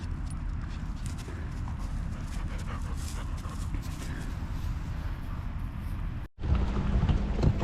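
A dog pants steadily aboard a sailboat at sea, quick rhythmic breaths close by against a constant rush of wind and water, broken by a brief dropout near the end.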